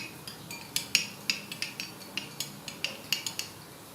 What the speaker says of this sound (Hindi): अच्छी तरह मिक्स कर लें।